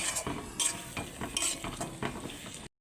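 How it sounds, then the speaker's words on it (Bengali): Chopped tomato is stirred in a pan for a Bengali egg curry, with rapid repeated scraping and clinking of a spoon against metal over a soft sizzle, close and continuous until it cuts off. "আবার একটু ভালো করে নেড়ে নেব"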